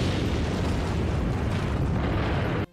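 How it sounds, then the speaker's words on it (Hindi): Israeli air strikes hit Gaza at night, producing a loud, dense, rumbling blast that roars continuously for a few seconds before ending abruptly. "इजराइल की एयर स्ट्राइकों ने रात में सोते गाजा को दहला दिया।"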